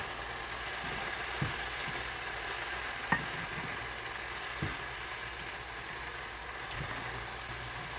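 Onions and sweet potato slips sauté in a cast iron skillet, giving a faint, steady sizzle with occasional soft knocks of stirring.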